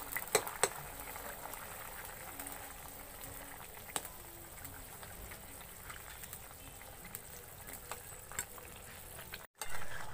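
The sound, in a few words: fish curry with raw banana boiling in pot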